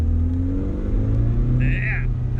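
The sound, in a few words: Datsun Stanza car driving fast in paddock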